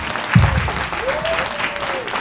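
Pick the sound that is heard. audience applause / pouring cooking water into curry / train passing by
audience applause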